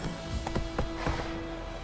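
Hooves of Roach, a horse in The Witcher 3 video game, clop a few times in an uneven walking rhythm, moderately close, over a low steady background hum.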